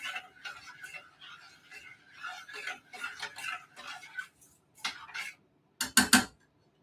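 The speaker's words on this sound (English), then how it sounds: "Keep stirring." A spoon clinks and scrapes around a cooking pot in a home kitchen, a busy run of small metallic taps and stirs with a louder clattering burst near the end; no speech.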